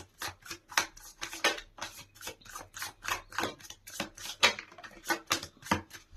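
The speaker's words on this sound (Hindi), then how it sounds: "लास्ट शफल करूंगी मैं" Tarot cards being shuffled in a final round, a steady run of quick crisp riffling taps and flicks, close and fairly quiet with no talking.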